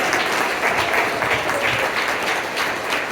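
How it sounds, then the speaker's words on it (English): Audience at a volunteer appreciation dinner gives a final round of applause, dense steady clapping filling the room near and loud without a break. "just give a final clap to these amazing volunteers"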